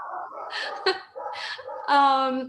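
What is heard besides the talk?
dog in the background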